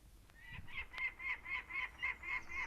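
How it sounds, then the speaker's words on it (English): Peregrine falcon calls from a bird catalog tape recorded in France, a steady run of about nine sharp, evenly spaced cries over faint tape hiss. "Falco Peregrinus, France."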